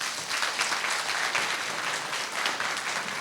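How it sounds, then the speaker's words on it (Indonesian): An audience at a seminar applauds, a steady dense patter of clapping lasting the whole few seconds at moderate distance, with no voices over it. "Tepuk tangan."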